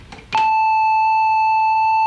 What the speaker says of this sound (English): Something in between those last two, and a very useful sound indeed, is something called triangular, and it's kind of a pointed sine wave.